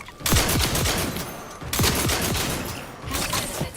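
Bursts of gunfire from a weapon in the video game The Outer Worlds, two or three rapid volleys with brief gaps between them, loud and close, with no talking over them.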